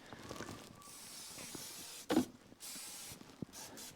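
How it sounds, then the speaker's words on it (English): A single short hiss of cooking spray from an aerosol can, about a quarter second long, fairly close, with quiet background noise before and after. "take a little cooking pan spray."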